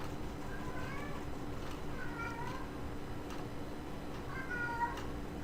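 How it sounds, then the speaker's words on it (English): A cat meows three times in a row, moderately loud and fairly close indoors, each call a short rising-falling cry spaced about a second apart over a steady background hum. "My cat is not happy with me right now."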